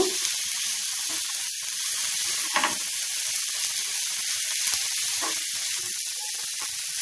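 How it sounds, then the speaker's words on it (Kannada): Chopped tomato frying in a pan for a spicy bread toast topping, giving a steady, close sizzle throughout with a few brief louder crackles and scrapes as it is stirred. "ನೋಡಿ ಟಮ್ ಟೊಮೆಟೊ ಈಗ ಫ್ರೈ ಆಗಿದೆ"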